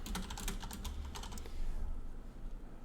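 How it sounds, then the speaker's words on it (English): Rapid keystrokes clatter on a computer keyboard in a quick, close burst, then stop partway through, leaving only a low room hum with no voices. "I'll type it up."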